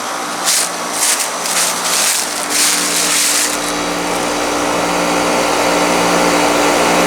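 A 2020 ICP Performance 5-ton heat pump with a Copeland scroll compressor runs in heat mode, giving a steady, loud mechanical hum with a constant low drone and broad fan whoosh, with brief hissy bursts early on.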